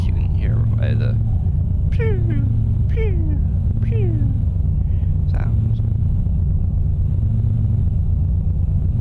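Turbo flutter from a modded 1,000-horsepower truck in a driving game, a series of quick descending chirps repeating roughly once a second over a steady low engine rumble, with a few fainter chirps later.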